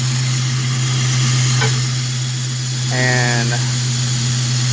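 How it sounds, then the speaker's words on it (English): A 1997 Ford Mustang engine idles in park, giving a steady, close, low hum that runs throughout while someone talks over it. "with the car idling with it in park"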